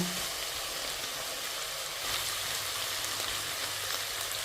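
Quiet, steady sizzling of zucchini lecho vegetables frying in a pot, a soft continuous crackle with a brief clatter at the very end.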